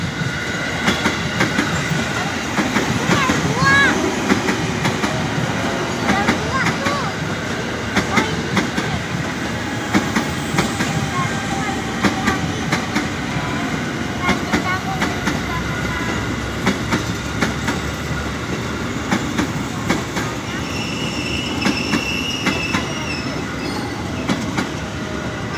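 A KRL commuter electric train from Kota toward Cikarang passes Cakung station in Indonesia, a loud, close, steady rumble with continuous wheel clatter and brief metallic squeals throughout, and no clear talking.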